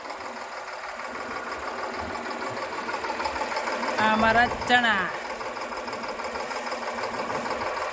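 A tractor engine runs steadily while sowing chickpeas in a farm field, a continuous mechanical drone with a brief swell in the middle as someone speaks over it.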